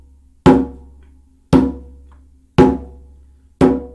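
Four bass tones struck on a hand drum land about a second apart, each a firm, resonant thump that fades quickly, played alone and up close.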